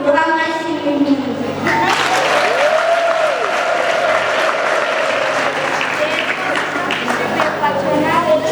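Audience at a youth talent closing ceremony bursts into loud, sustained applause, dense clapping filling the space, after a voice calls out just before it begins.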